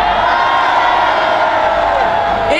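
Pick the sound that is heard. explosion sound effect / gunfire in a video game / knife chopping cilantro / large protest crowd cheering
large protest crowd cheering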